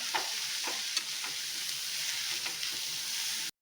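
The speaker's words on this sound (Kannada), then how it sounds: "ಈಗ ಇದೆಲ್ಲ ಮಿಕ್ಸ್ ಮಾಡ್ಕೊಳ್ಳೋಣ" Horse gram basaru with grated coconut is stirred in a pan on the stove, a steady close sizzle with soft scraping strokes of the spoon throughout, ending abruptly.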